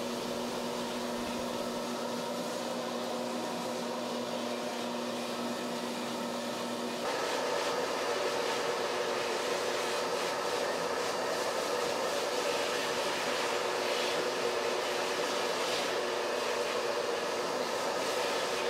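A buffing wheel polishing the inside of an acrylic reef aquarium tank gives a steady motorized whir with a low hum, shifting to a rougher, louder grinding texture partway through and continuing evenly, with no talk.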